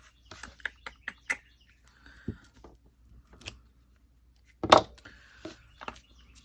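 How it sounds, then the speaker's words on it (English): A bird calls outdoors in a few short, sharp bursts scattered over quiet background, with one louder call standing out near the end. "That bird is loud out there."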